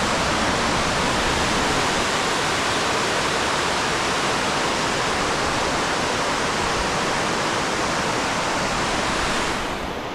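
Powerful waterfall at High Falls State Park roaring steadily, a dense, continuous rush of falling water that stays loud and unbroken throughout with no voices.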